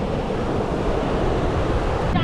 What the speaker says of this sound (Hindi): और साथ में है ये बहुत बड़ा समुद्र।